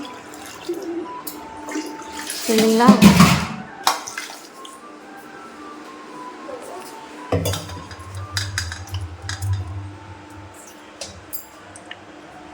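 Dishes and cutlery clatter under running water, with a burst of rinsing splashes and then a steady trickling flow; a voice speaks briefly.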